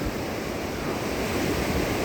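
Sea surf washing onto the shore at Qingdao near the Laoshan area, a steady broadband wash with wind noise on the microphone, continuous and moderately loud throughout with no voices.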